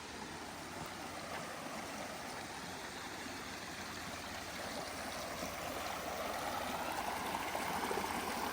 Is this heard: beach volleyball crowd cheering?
no